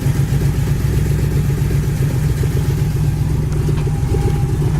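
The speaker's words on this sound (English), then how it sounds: "Kind of like new dual exhaust." A 1969 Chevy Camaro engine idling through its dual exhaust, a steady low rumbling burble with a regular pulsing beat, close and continuous.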